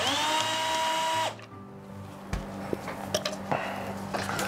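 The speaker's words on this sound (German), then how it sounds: "zum Lösen könnt ihr den Akkuschrauber benutzen, so wie ich das jetzt im Endeffekt auch mache" Cordless drill-driver with a hex (Allen) bit loosening screws on an Abyzz A200 pump: a steady motor whine that cuts off, then clicks and small knocks as the screw comes free, with no speech.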